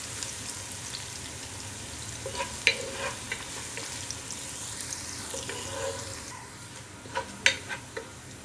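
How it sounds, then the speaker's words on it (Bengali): About half a cup of onions frying in oil while being browned for prawn pilau: a constant soft sizzle with a few spoon clinks and scrapes near the end. "এগুলো এখন আমি বাদামি কালার করে ভেজে নেব।"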